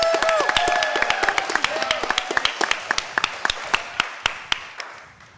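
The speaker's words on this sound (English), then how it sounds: "Let's also give a round of applause to our wonderful moderators, Zamara Winter-Clark and Jules Drawers." Applause at a Berkeley High School board candidate forum for the moderators, starting as dense clapping from the audience and thinning out into scattered individual claps that fade away.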